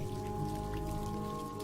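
Rain falling in the video game A Museum of Dubious Splendors, a steady patter of drops over a low humming drone, continuous and fairly quiet.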